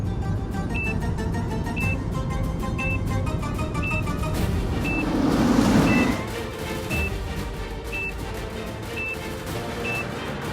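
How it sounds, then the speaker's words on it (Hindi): A car gives off alarm-like beeping, a steady chain of short high beeps roughly once per second over background noise, with a brief louder rushing burst midway. "ये अलार्म जैसा आवाज कहाँ से आ रहा है?"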